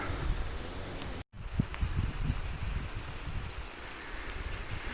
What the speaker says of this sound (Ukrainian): цілий день дощ